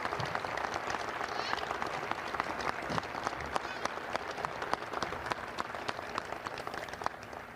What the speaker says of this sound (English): please give the former players that are here a round of applause?